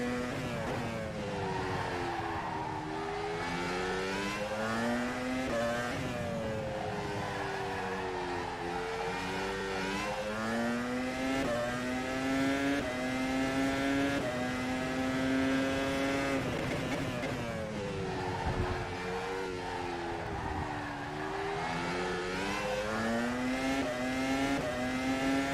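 Formula Pro open-wheel race car from rFactor 2 at Zandvoort, its engine screaming loud and continuous for the whole stretch, pitch climbing through gears and dipping under braking before rising again.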